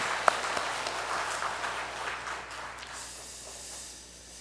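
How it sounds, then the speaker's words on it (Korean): A church congregation claps for the choir, accompanist and instrumental group after a Sunday service, soft and somewhat distant applause that slowly fades away toward the end. "오늘 수고한 성가대 또 반주자 또 기악부 위해서 한번 박수 한번 하십시다"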